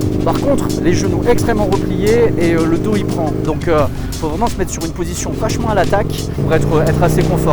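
A 2000s Aprilia RSV 1000 sport motorcycle ridden on the road, its engine droning and shifting pitch under the rider's continuous talking, with wind noise throughout.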